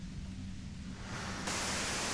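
White noise effect from the video game Disco Elysium, a steady hiss that grows louder and brighter partway through, then jumps to a harsher, fuller static rush near the end.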